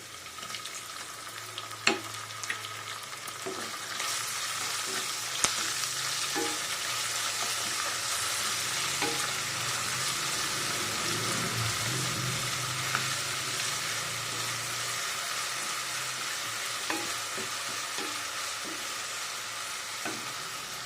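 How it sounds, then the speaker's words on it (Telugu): Ginger garlic paste frying with browned onions in a pan, a long steady sizzle with occasional soft spoon taps and scrapes, fairly quiet and without voices. "దీంట్లో ఇప్పుడు మనం అల్లం వెల్లుల్లి పేస్ట్ కూడా వేసుకోవాలి"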